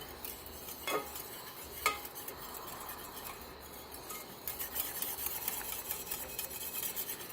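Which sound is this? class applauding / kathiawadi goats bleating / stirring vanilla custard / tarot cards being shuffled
stirring vanilla custard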